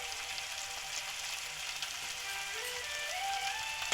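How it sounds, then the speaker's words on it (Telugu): Onions fry in a pan with garam masala spices such as bay leaf, cardamom, cinnamon and cloves, making a continuous soft sizzle with faint scrapes of stirring, close by and alone. "ఉల్లిపాయలు వేగుతున్నాయి"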